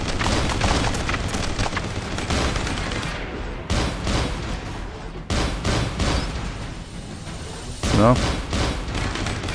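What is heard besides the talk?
shotgun firing in the video game Robocop 2014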